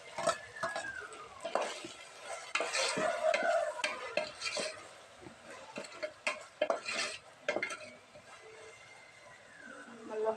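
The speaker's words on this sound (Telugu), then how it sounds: "ఉల్లిపాయలు అయితే కొద్దిగా ఫ్రై అయ్యిందండి ఇప్పుడు టమాటాలు అయితే వేసేసుకోవాలి" Onions and tomatoes fry in a pan with a soft sizzle while a utensil stirs and scrapes against the metal, close by. Someone talks over the cooking.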